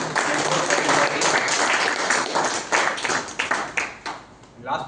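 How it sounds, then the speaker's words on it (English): Audience at a Toastmasters meeting breaks into sustained, loud clapping that fills the room, then thins into scattered claps near the end. "a big round of applause to the PR and all the members"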